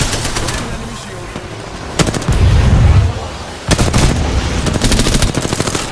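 Loud, close machine-gun fire in the video game Apex Legends, rapid bursts repeated several times with a heavy boom in between, and players' voices mixed into the action.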